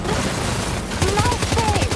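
Gunfire rattles in the PS5 video game Death Stranding 2 as rapid bursts of shots start about halfway through, over a constant background of game noise, with a voice mixed in.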